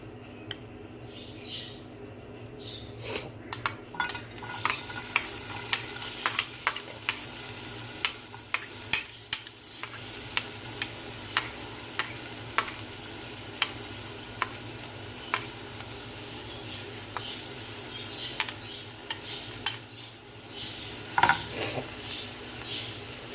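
Onions frying in a little oil in a pan for a Pakistani-style omelette, a steady close sizzle broken by repeated clicks and scrapes of stirring.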